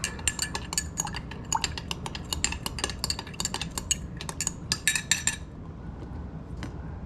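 Ice clinking and rattling against glass and a metal spoon as a Zombie tiki cocktail is stirred, a busy run of close, bright clinks in bursts that thin out toward the end, with no talking.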